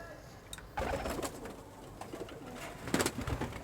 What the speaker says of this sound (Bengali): এখানে অনেক ভালো ভালো কবুতর আছে